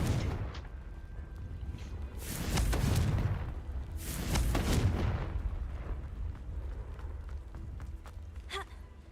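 Blasting spell explosions in Hogwarts Legacy, two heavy booming bursts a couple of seconds apart, each rumbling low and then decaying, followed by a short sharp magical zap near the end over quiet background ambience.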